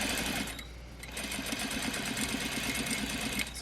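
A sewing machine runs in rapid, steady stitching bursts while understitching along a fly front zipper, heard close and fairly quiet with a brief pause near the start.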